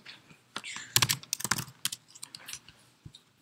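Typing on a computer keyboard during a Python demo: irregular bursts of close, crisp key clicks, busiest in the middle and thinning out afterward.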